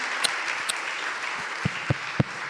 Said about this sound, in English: Let's first of all give a round of applause for Josip.